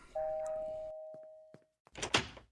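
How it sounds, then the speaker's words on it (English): A cartoon doorbell from Family Guy sounds as a single sustained electronic tone, followed by a brief pause and then a burst of louder clattering noise, with no speech. "I'm being a rascal and ringing people's doorbells and running away."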